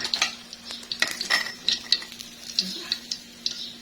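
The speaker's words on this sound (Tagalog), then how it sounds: "ipiprito naman natin yung remaining na hindi pa luto" Omelette ingredients for a cheese egg omelette fry in oil in a pan, with a soft steady sizzle broken by repeated sharp clicks and scrapes of a utensil against the pan.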